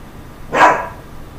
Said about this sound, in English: I think my dog is gonna start barking.